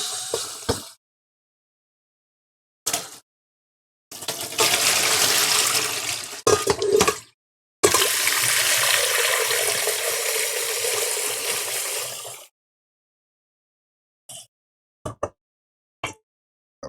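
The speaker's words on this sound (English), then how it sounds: "Put some fresh water in here" Fresh water runs into a cooking pot for rice vermicelli in a home kitchen. It comes as a short splash, then two sustained gushing pours of several seconds each, close by, followed by a few small clinks and knocks.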